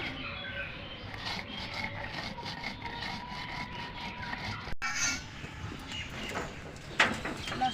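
Spices being ground by hand into a paste for a homemade mixed sour-spicy pickle, a steady rhythmic rubbing and rasping that continues throughout, with faint bird calls in the background.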